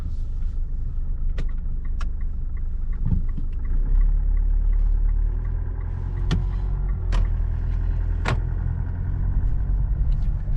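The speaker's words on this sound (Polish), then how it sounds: "właśnie wyjeżdżamy z remizy." A new Polish volunteer fire brigade vehicle in Witkowo drives out of the fire station. Its engine rumbles loud and constant, with a few sharp knocks and clicks over the drone.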